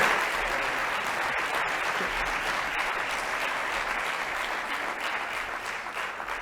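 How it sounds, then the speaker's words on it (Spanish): Sustained audience applause at an awards ceremony, a dense, steady wash of many clapping hands that stays loud and even throughout with no voices rising above it. "Aplaudir, ánimo, aplaudir"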